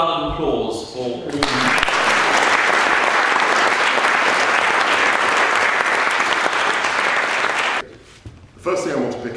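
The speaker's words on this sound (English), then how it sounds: "I think a collective round of applause for all." A large audience at a debate in a London court setting breaks into sustained, loud applause that fills most of the stretch, dense and even, then fades away, with brief talk before and after.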